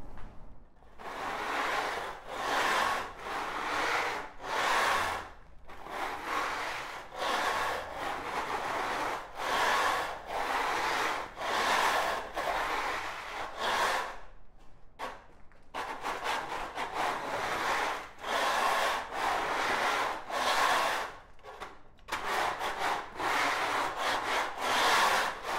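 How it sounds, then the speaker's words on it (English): Hand scraper dragged across a cured epoxy floor coating, knocking off flakes in steady rhythmic strokes, a gritty rasping rub repeated over and over up close, briefly pausing between passes. "So scraping is extremely important to keep your floor uniform, flat"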